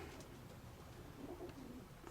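Soft, low cooing from pigeons, including a white one, comes from inside a dovecote, faint and steady against a quiet background.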